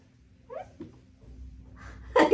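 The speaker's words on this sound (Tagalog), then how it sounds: "Ang pusa." A house cat gives a short meow-like call, then a louder, closer vocal burst at the end, over low indoor rumble.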